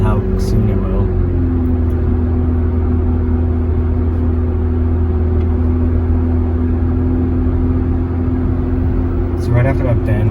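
A car drives along a winding road past a bend, heard from inside as a loud, steady engine and road rumble that holds constant, with brief talk at moments.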